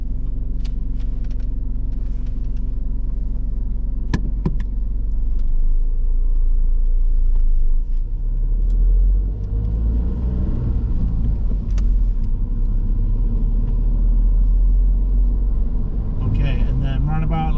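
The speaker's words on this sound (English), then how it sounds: "drive on when safe to do so" A learner driver's car pulls away during a mock driving test, its engine and road rumble steady and close throughout, with a brief rise as it moves off and a faint higher sound near the end.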